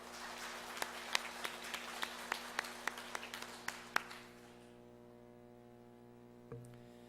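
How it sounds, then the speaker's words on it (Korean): A church congregation claps in a quick, even rhythm for a few seconds, faint and somewhat distant over a steady electrical hum. The clapping then stops, leaving only the hum. "하나님께 영광의 박수를 올려드립시다"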